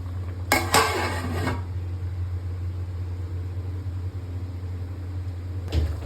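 A metal lid clanks onto a pot of homemade chicken biryani set over a high flame, with a quick double clatter, a steady low kitchen hum, then one more brief metallic knock at the end.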